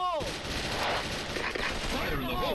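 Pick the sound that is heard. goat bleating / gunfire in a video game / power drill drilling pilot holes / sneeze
gunfire in a video game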